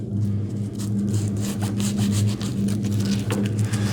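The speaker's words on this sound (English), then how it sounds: "push down as you're sanding so you get some friction" Steady rough rubbing of sandpaper by hand on antique furniture wood veneer, continuous and close, with a low mechanical hum running underneath throughout.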